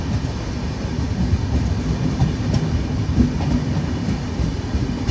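The Tirupati Secunderabad Superfast Express rolls past at steady speed, a loud continuous rumble of wheels and carriages with light rattling that holds evenly throughout.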